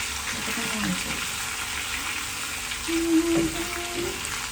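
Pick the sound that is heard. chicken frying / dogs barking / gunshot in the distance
chicken frying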